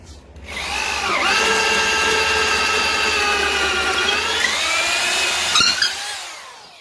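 A power drill with a 25 mm bit bores a hole, its motor spinning up and holding a steady loud whine for about five seconds before winding down, with a brief knock near the end.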